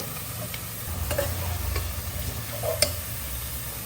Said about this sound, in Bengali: আমার পেঁয়াজ ভাজা প্রায় শেষ হয়ে এসছে